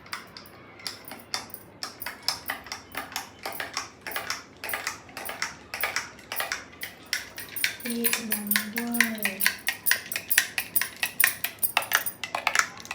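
A spoon stirs a glass of raw mango drink with ice, a rapid series of bright clinks against the glass, close and continuous, with a voice briefly heard partway through.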